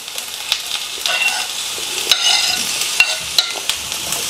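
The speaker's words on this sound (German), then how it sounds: "Die Kartoffelchen brutzeln schon seit 3 Minuten" Steady close sizzling of potato and zucchini cubes frying in a pan, with occasional scraping stirs and light pops throughout.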